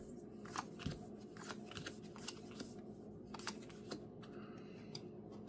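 Soft, quiet card handling while drawing six playing cards in a tabletop card game: scattered light flicks and slides against a low steady background hum.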